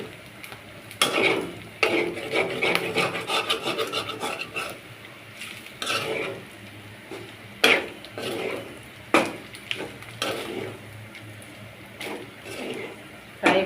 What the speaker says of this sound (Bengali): সেই জন্য অনেক ঘন ঘন নাড়তে হচ্ছে।